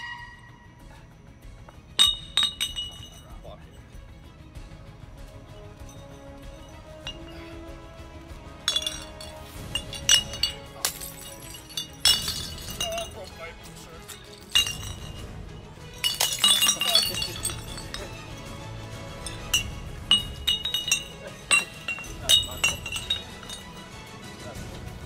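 Glass bottles are tossed and caught outdoors on a ranch, with repeated sharp clinks and occasional shattering scattered over about twenty-five seconds while people talk and call out throughout.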